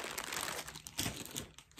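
Thin plastic zippered bag crinkling and rustling up close, a steady papery crackle with small irregular bursts, quiet and with no voices.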